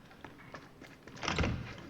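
A door swings open in the Resident Evil 7 survival horror game, a soft creak building into a heavier thunk near the end of a short, fairly quiet moment.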